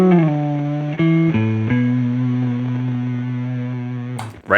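Electric guitar heard only through a GFI Duophony pedal with the dry signal removed, giving a processed, slightly odd effected tone; sustained chords ring for several seconds with a few changes, no voices.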